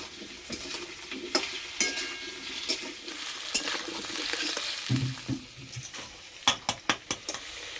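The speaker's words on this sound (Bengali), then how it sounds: "আলু বেশ লাল করে ভেজে নিয়েছি, এবার তুলে নেব।" Potato pieces fry in oil with a low, steady sizzle while a metal spatula stirs and scrapes the pan now and then. A quick run of sharp clinks comes near the end, and no one speaks.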